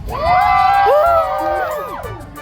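Amusement park crowd at Silverwood screaming and cheering together, a loud sustained wave of overlapping high shouts and whoops that rises, then tapers off over a couple of seconds.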